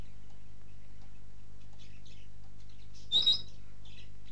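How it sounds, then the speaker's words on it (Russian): Quiet surroundings with a faint low hum, then a single bright bird chirp stands out near the end, short and fairly close. "Вроде бы птички божьи."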